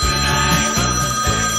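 A telephone rings steadily and loudly over a low, droning background, its bell-like tone continuing through the short moment with no talk.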